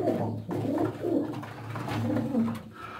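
Arab breed pigeons coo inside a coop, several soft, rolling, throaty calls repeating close by with no talk over them.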